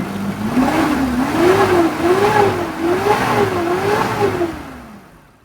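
Car engine cold-starting in a mechanic's workshop, a steady mid-pitched rumble with a slowly wavering pitch, revving a little and then dying away at the end, close and loud with no talk over it.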